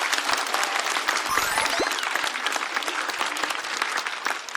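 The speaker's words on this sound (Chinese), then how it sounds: "再次把掌声送给鸡翅" A studio audience at a stand-up comedy show applauds a comedian loudly and densely, with a few whoops and cheers rising over the clapping throughout.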